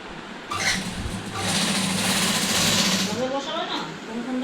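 A sewing machine stitches a sleeve onto a nighty, running in a steady, fairly quiet whirring burst of about three seconds before slowing and stopping.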